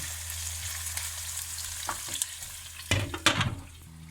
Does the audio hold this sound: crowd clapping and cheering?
no